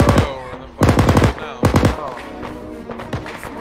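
Gunfire at a cadet corps field exercise, three loud, close bursts of rapid shots roughly a second apart, with shouted voices and movement noise in between.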